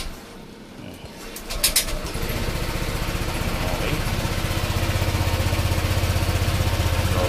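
A Honda Click scooter engine idles steadily while warming up, a continuous low drone that firms up after a brief rise and holds even and close throughout.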